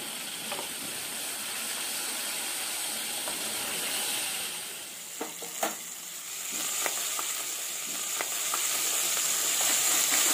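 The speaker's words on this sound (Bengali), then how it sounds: "খুব কষ্ট করে আমি এই বোয়াল মাছগুলো ভেজেছি।" Pieces of boal fish fry in hot oil in a covered pan, making a steady broad hiss and sizzle with a few sharp pops and crackles scattered through, close up and with no voices.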